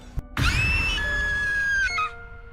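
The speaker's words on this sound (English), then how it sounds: "That was a good scream." A long, sustained scream in the video game Zenless Zone Zero rises sharply after a brief click, holds steady and loud for about a second and a half, then breaks off with a short final cry.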